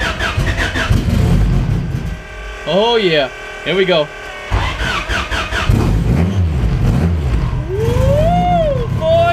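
A car engine fitted with Skunk2 Pro1 cams and a coil-on-plug setup cranks, catches and revs repeatedly, loud and close with rising and falling engine pitch, while someone speaks excitedly over it.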